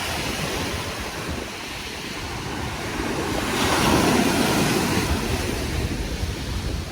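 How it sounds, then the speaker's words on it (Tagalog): Waves break and wash steadily onto Dolomite Beach on Manila Bay, loud and close, with heavy wind buffeting the microphone and a surge swelling midway. "Grabe naman tong alon."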